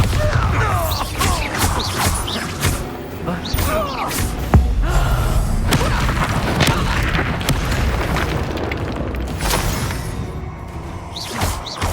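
A Bombarda blasting spell going off in Hogwarts Legacy, a heavy booming explosion with crashing, shattering debris amid constant dense battle noise and whooshes, loud and close, with game voices shouting over it.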